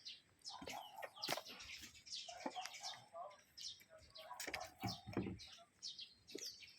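Chickens and ducks kept in pens cluck and chirp in scattered bursts, with wing flaps and clatter, close to moderately near outdoors, mixed with faint voices.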